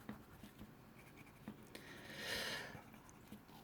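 A pencil scratches and rubs softly on paper while coloring in a drawing of lung alveoli with red, a steady close, faint scribbling with a brief denser stroke midway.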